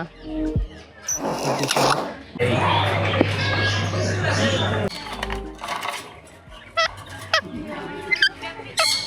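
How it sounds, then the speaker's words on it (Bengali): Ducks at a mini zoo near Sreemangal's Lawachara National Park give loud honking, quacking calls in bursts, mixed with other animal noises and people talking nearby. "এখানে অনেকগুলো হাঁস আছে।"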